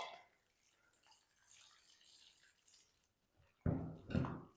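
Cut bitter gourds rubbed and washed by hand in a bowl of water give soft, faint sloshing and dripping, then a sudden louder splash of handling near the end.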